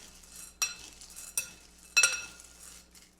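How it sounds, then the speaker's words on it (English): Butterscotch chips are stirred in a bowl, giving a few sharp clinks and scraping rattles at irregular intervals, close and fairly quiet between the hits. "I like to just mix up the chips before we melt them"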